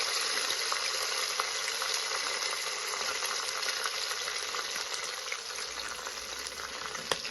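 Chopped curry leaves and green chillies frying in a pan, a steady dense sizzle that holds even throughout, alone with no talk.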